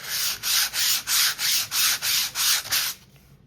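Rhythmic sanding of linen fabric, about nine steady back-and-forth rasping strokes, close and loud, then the scratching stops.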